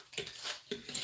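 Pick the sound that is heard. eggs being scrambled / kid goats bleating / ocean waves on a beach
eggs being scrambled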